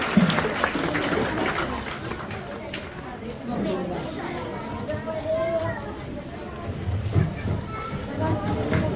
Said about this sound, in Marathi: टाळ्या वाजवायच्या आहेत